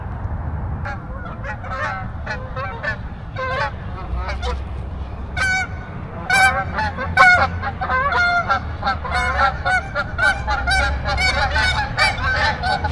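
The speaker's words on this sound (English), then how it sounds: "Here's the geese." A flock of geese honks repeatedly, many loud overlapping calls growing busier over time above a low background rumble.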